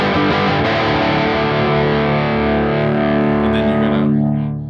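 A heavily distorted electric guitar plays a sustained ringing passage, thick and loud with effects, the notes gradually decaying toward the end.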